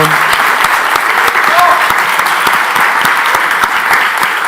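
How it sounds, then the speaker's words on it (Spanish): Audience applause for a speaker at an academic year inauguration of a journalism school, dense steady clapping from a crowd filling the whole stretch with a brief voice mixed in. "Por favor, un aplauso para Franco."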